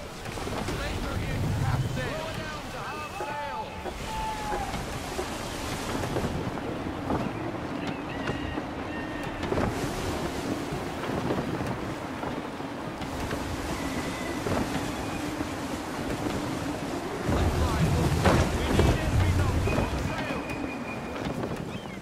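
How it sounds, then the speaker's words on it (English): Gusty wind rushes over a sailing ship at sea in Assassin's Creed III, a steady roaring wash with creaking and water underneath, swelling louder near the end, while a low drone hums beneath. "Gusty winds can be difficult to manage."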